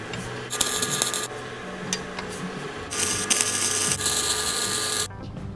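Tack welding steel lowering brackets onto a lawn tractor frame, heard as steady crackling, hissing arc bursts in several stretches with short pauses between, close and fairly loud with no talk.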